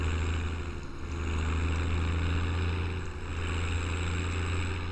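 Tractor engine idling steadily in Farming Simulator 17, a constant low droning hum with a faint higher whine, even and unbroken throughout, no voices.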